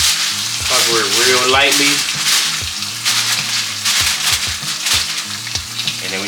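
Seared steak sizzling loudly in a hot pan, a continuous crackling fry with clinks and scrapes as it is handled, while someone talks over it.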